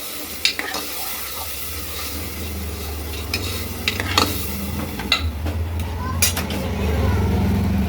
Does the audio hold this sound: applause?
no